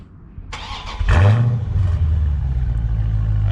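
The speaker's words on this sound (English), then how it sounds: "go ahead and start it up real quick" A nearly new Dodge Challenger Scat Pack, with about 100 miles on it, cranks briefly and fires up. It settles into a loud, close, steady idle rumble with no talking.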